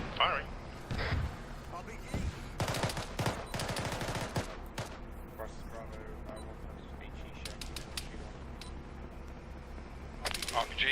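Distant gunfire and artillery in the video game Arma 3, with bursts of rapid shots and scattered cracks over background ambience while players talk over radio.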